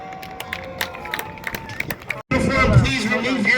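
A crowd at the Dome Valley Raceway sand drag races bursts into loud, steady applause midway, following a stretch of quieter scattered sounds, with the clapping holding strong to the end.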